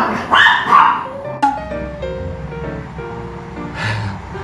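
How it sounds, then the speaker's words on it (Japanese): Several dogs in Mexico bark and yip close by, a few sharp barks early on followed by a sustained whimpering whine and another bark near the end. "めっちゃワンワンやってる"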